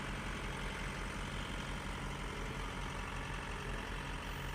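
A tractor engine runs steadily at a low rumble while hay bales are unloaded from the back of a truck into a barn, a continuous, even drone close by with no pauses.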